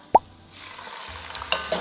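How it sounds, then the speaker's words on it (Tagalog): Canned tuna dropped into a pan of malunggay pasta: a sharp, close plop followed by soft stirring and light scraping with a silicone spatula, then a few small wet taps. "And then, lagyan mo ng tuna."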